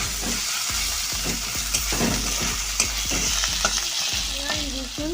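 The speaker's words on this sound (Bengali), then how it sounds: "ভালোভাবে আদা রসুনটাকে ভালোভাবে ভেজে নিচ্ছি" Ginger and garlic paste fries in a pan for a chicken kosha curry, a steady close sizzle broken by repeated scraping stirs of a spatula, with no talking.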